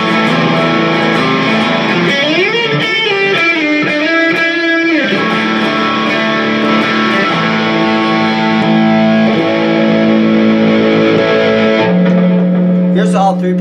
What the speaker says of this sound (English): Now phase switch puts them out of phase, which is kind of a cool sound.